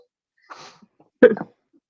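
A single person sneezes nearby: a soft breathy intake, a short pause, then a sharp, loud burst that trails off quickly, heard alone in a quiet room.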